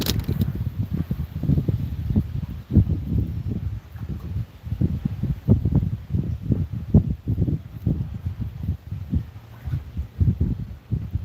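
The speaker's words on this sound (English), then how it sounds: "It is windy." Wind buffets a phone microphone outdoors by the water in the Ozarks, in low, rumbling gusts that rise and fall continuously, with no voices.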